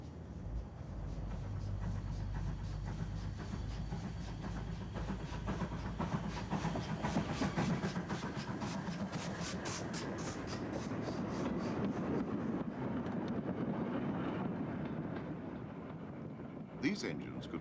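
A GWR 2251 class 0-6-0 steam locomotive, a Charles Collett design from the 1930s, runs with a steady rumble and rapid rhythmic chuffing that builds mid-passage, with wind buffeting and a voice talking over it.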